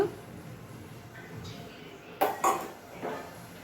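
Fried green chillies dropped into a stone mortar for a green chilli and raw mango chutney make a few close, brief clatters and knocks against the stone, with a quiet background.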